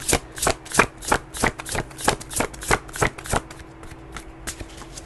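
Tarot cards are shuffled by hand in a quick, regular series of crisp riffling bursts, close and clear, with no talking.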